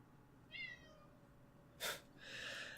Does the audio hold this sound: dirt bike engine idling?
no